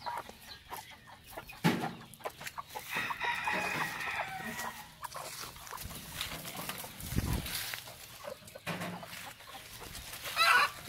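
Hens and roosters in farm pens, including brooding laying hens, cluck and crow in a busy overlapping chorus, with scattered louder calls and bursts of rustling throughout, moderately close and unaccompanied by speech.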